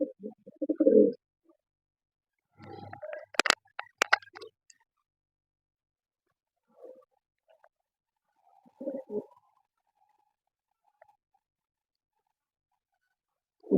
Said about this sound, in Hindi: बहुत ही लाजवाब और बहुत ही परफॉर्मर कबूतर जो इस टाइम आपकी स्क्रीन के ऊपर आपके साथ शौक शेयर किया जा रहा है